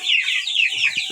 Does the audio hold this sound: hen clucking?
yes